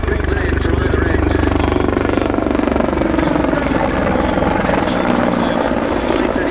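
Czech Air Force Mi-35 and Mi-171 helicopters at the Duxford Battle of Britain airshow produce a loud continuous rotor thrum and turbine whine, steady and fairly near, while a commentator talks over the noise.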